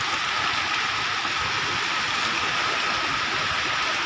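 Heavy rain pours down over a farm field, a dense, loud, steady roar of falling water that fills the whole stretch without pause and without voices.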